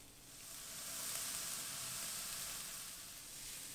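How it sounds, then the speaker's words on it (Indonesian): Mushrooms and garlic fry in a pan over medium heat, giving a steady, fairly soft sizzle with no voices. "Lalu masukkan jamur dan bawang putih. Kita masak kurang lebih 5 menit sampai bawang dan jamurnya matang."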